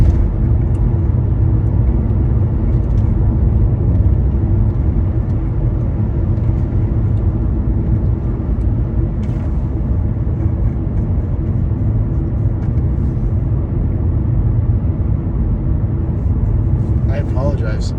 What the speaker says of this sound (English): This is a boring ass car ride.